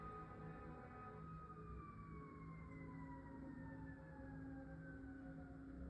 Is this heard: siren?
yes